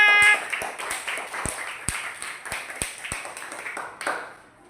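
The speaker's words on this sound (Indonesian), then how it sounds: "Tepuk tangan untuk Nafisa." Children in a classroom clap for a classmate, a loose scattering of separate claps from a small group, fairly close, with a faint voice at the start.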